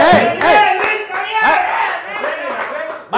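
A studio audience claps at the opening of a TV show, loud close applause mixed with cheering voices and talk.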